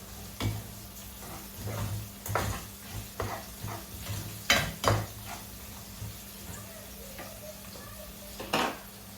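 Broken dried red chilies drop into hot oil for a wet pilaka curry, giving a faint, steady sizzle broken by sharp clinks and scrapes of a spoon against the pan, close and quiet with no talk.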